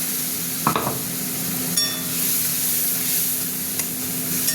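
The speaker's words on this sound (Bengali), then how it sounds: "এবার মশলাটা কষা হবে। লাউ সেদ্ধ জলটা দিয়ে মশলাটা একটু করবো।" Spice paste being stirred and fried in oil with bottle gourd cooking water added, a steady close sizzle with occasional scrape and clink of a utensil against the pan, no voices.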